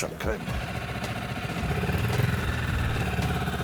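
An outboard motor on an inflatable dinghy on the Adriatic in Dalmatia runs at a clattering idle, close and steady, rising slightly in loudness, with someone talking over it.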